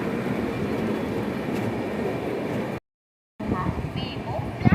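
The Secunderabad-Nizamuddin Duronto Express rumbles into Ballarshah Junction with a broad, steady roar. The sound cuts out for a moment and then resumes with faint voices over it.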